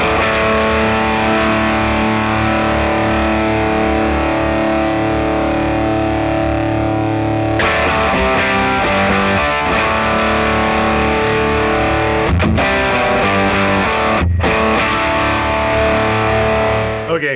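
Overdriven electric guitar through a Dr. Z Z-80 amp set fairly aggressive, with dense, sustained distorted chords ringing loud and close, broken by a couple of brief stops and no talking.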